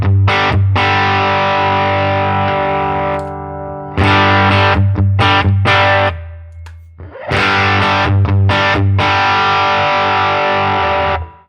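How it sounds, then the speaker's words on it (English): An overdriven electric guitar tone from a Line 6 HX Stomp preset plays loud chugging chords and sustained riffs, with heavy distortion and brief pauses between phrases. "So we're going to get much more overdriven sound."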